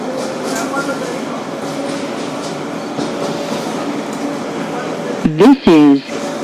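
A 2012 Kawasaki R-188 subway car on the 7 train's Flushing local line runs with a constant near hum and whine of motors and wheels, then a loud tonal chime-like burst of announcement sounds near the end.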